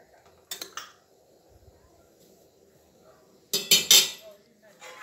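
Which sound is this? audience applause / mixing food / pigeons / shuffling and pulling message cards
mixing food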